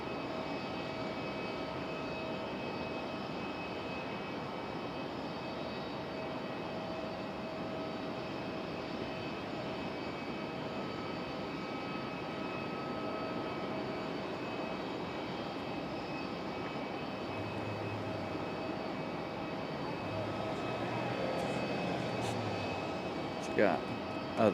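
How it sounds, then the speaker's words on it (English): An Aeromexico airliner comes in to land at Raleigh-Durham airport, a steady distant jet whine and hum running throughout, with a fan and voices nearby. "Aero Mexico about to touch down."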